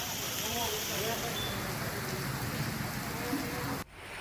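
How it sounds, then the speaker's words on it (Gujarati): Heavy monsoon rain falls in Amreli district, Gujarat, as a dense, even hiss of downpour at moderate distance, with faint voices mixed in before it cuts abruptly near the end. "સૌરાષ્ટ્રના અનેક વિસ્તારોમાં ધોધમાર વરસાદ પડ્યો છે"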